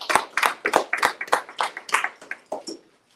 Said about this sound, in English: let's give a round of applause for Evan Ivory Long